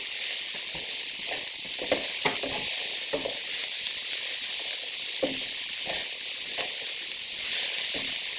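Shredded cabbage sizzling in seasoned sausage grease in a pan, a steady loud hiss with intermittent stirring scrapes and clatters close by, no talking.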